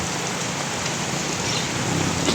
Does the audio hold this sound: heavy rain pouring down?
yes